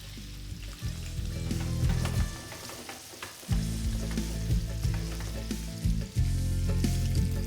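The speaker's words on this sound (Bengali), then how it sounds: "আমি একে একে পনিরগুলোকে এইভাবে সাজিয়ে দেবো ভেজে নেওয়ার জন্য।" Paneer pieces shallow-frying in a little oil, a close steady sizzle with crackles and spatters, interrupted by a short quieter dip before the frying resumes loudly.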